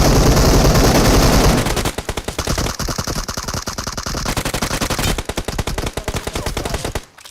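Loud, rapid automatic gunfire in a battle royale video game, continuous bursts of closely spaced shots that pause briefly and resume, with no talking.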